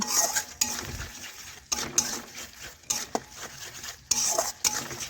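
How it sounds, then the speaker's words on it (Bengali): Spice paste for rohu kalia being sautéed in a pan, with repeated metal spoon scrapes and clatters against the pan in uneven bursts over a faint sizzle, close and fairly loud, no talking. "দেখুন বন্ধুরা মশলা কষানো হয়ে আসছে"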